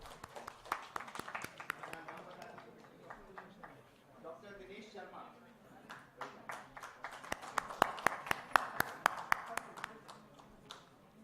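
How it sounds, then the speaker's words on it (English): Clapping for a prize winner at a live event, a small group's scattered claps running through most of the stretch, mixed with ongoing talk from a speaker and some chatter in the room. "Please clap, sir."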